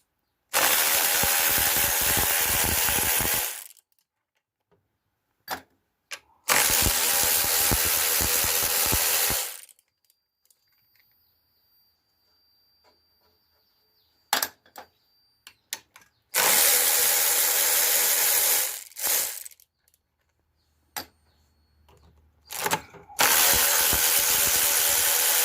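A socket ratchet wrench works on a Peugeot 404 BA7 four-speed gearbox during strip-down, coming in loud bursts of rapid clicking separated by quiet gaps, close up with no talk.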